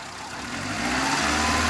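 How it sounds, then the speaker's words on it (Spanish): A car engine idles, then revs gently and steadily rises in pitch during a fuel pressure regulator check, the sound swelling from near. "si aceleramos suave, acelera suave"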